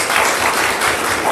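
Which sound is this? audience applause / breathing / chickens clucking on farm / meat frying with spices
audience applause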